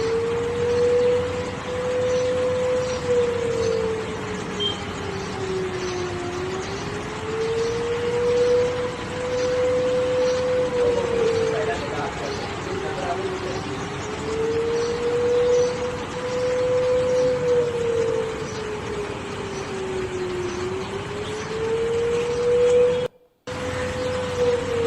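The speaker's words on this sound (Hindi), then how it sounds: "इस्लामाबाद है ये और इसमें सायरन की जो आवाज है वो आपको सुनाते हैं।" Emergency sirens wail across Islamabad, Pakistan, a loud steady rising-and-falling tone cycling about every five seconds over a dense outdoor background hiss, continuing alone without talk.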